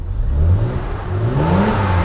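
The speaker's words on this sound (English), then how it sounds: "It's an inline 6-cylinder and sounds real nice." A BMW inline six-cylinder engine revving nearby, a smooth rising and falling growl with a couple of throttle swells over a low steady rumble.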